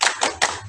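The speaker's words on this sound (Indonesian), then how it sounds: "Bapak mau tepuk semangat dulu" A group of students performing a rhythmic spirit-clap cheer in a classroom, three sharp, loud, evenly spaced claps in quick succession.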